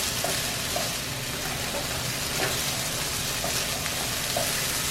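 Carrots fry in oil in a pan over low-medium heat, giving a steady, even sizzle with faint crackles, close and continuous with no voices.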